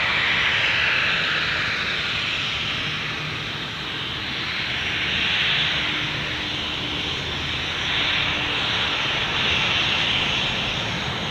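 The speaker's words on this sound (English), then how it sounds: "have a great flight, Reese." Airliner taking off at Gold Coast Airport, a broad steady jet roar heard from a distance that swells and eases slightly over several seconds.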